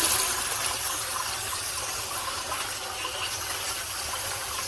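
A steady, loud gush of running water pours over tumbled rocks being rinsed, a continuous close splashing hiss with no pauses.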